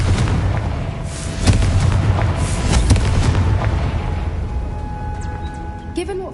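A Confringo spell explosion in the video game Hogwarts Legacy, with loud booming blasts and rumbling impacts over the opening seconds that fade into quieter background game sounds.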